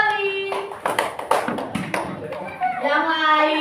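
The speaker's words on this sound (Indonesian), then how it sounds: "Tepuk tangan untuk kelompok Raja Wali." Classroom of children clapping hands together for a group, a short burst of rhythmic claps in the middle with a teacher's voice talking before and after.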